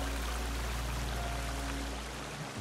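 Waterfall in the game Sons of the Forest, a dense steady rush of falling water that fills the clip and thins out slightly near the end.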